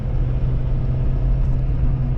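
A 2011-2016 Ford F250 truck with a new steering dampener drives on the road on a test drive, a steady low engine and road rumble heard from inside the cab, loud and unbroken with no voices.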